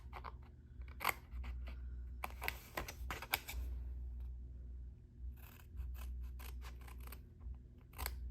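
Scissors cut paper along a score line in a quiet room, producing close, soft crisp snips in irregular short clusters with brief pauses between them.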